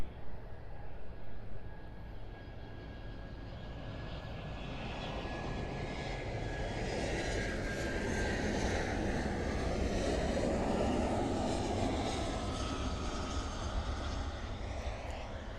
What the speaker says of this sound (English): And here we have the American 737 from Williamstad.